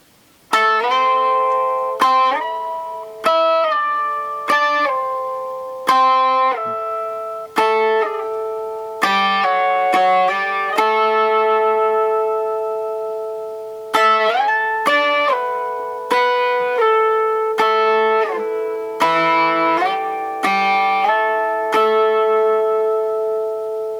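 A clean, sustained electric guitar melody with light overdrive and ringing bent and slid notes, from a live Fillmore East solo, played alone and close, each phrase picked distinctly.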